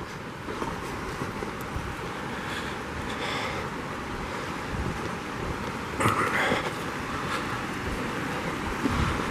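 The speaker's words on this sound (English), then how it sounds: "The river." A river flowing beside a backcountry campsite in the Mount Evans Wilderness, a steady broad rush of water with a slight surge midway, heard alone without talk.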